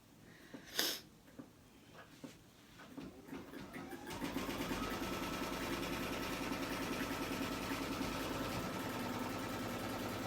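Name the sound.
embroidery sewing machine stitching a placement line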